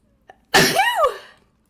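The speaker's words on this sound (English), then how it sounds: "hold on, I'm about to sneeze again" A single sharp sneeze, close and loud, preceded by a quick intake of breath and ending in a fading exhale.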